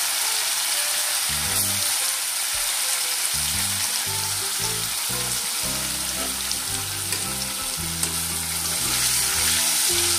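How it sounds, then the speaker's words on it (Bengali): Paneer fries in oil with a loud, steady sizzle that continues evenly throughout, close up. "তো সেম প্রসেসে ভেজে তুলে নেব"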